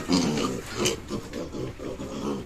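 A mother pig with her piglets gives a run of low, rhythmic grunts close by, a steady pulsing series over a busy pen background.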